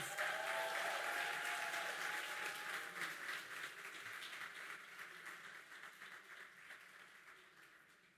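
An awards ceremony audience applauds the 2026 laureates, a dense wash of clapping that starts full and slowly fades over several seconds, with no voices over it.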